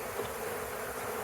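Honeybees inside a hive box, a steady, close, even buzzing hum with no voices.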